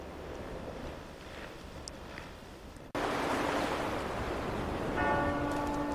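A temple bell tolls at a pagoda in Phú Xuân during mourning in a Vietnamese historical drama. A single resonant strike rings out late over a rushing, wash-like background, with no speech.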